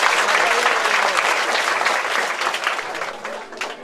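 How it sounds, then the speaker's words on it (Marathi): Sustained audience applause at a Marathi bataavani comedy stage performance, dense and steady clapping from a crowd that tapers slightly toward the end, with no talk over it. "टाळ्या वाजवायच्या"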